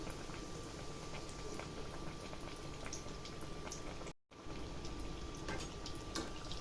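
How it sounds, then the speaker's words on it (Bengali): Food frying in a pan over low to medium gas, a steady dense sizzle and crackle with scattered pops, close and continuous, briefly cut out partway through. "উল্টিয়ে উল্টিয়ে উল্টিয়ে পাল্টে ভালো করে লাল লাল করে ভেজে নিতে হবে"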